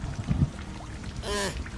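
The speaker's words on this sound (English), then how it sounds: "It rains much harder and longer than what Yang and I are used to, but still we ride through it." Heavy rain in a RWBY visual novel game makes a steady wash of patter and splashes, with a louder swell partway through.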